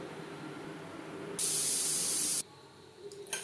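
A pressure cooker cooking mutton curry lets off a burst of hissing steam through its whistle, a loud, steady rush lasting about a second before cutting off abruptly, with quieter kitchen background around it.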